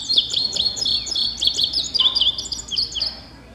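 Indigo bunting singing a bright, high, bouncy song of paired twittering notes, loud and close, in quick repeated phrases with a short pause near the middle.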